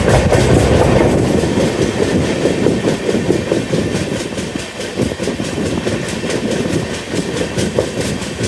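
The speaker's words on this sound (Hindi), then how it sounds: "देखो सामने लगी है हमारी तेजस राजधानी, राजेंद्र नगर से न्यू दिल्ली वाली।" Tejas Rajdhani express train, Rajendra Nagar to New Delhi service, rumbles loudly at a station with rhythmic clickety-clack of wheels over rail joints, close and continuous.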